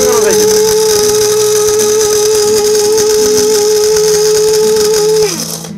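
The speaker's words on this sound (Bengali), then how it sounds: "ভাই বড় মিক্সার গ্রাইন্ডার চালালে কিন্তু এরকমই আওয়াজ হয়।" A mini mixer grinder runs while grinding lentils, making a loud, steady high-pitched motor whine that holds for about five seconds before winding down and stopping.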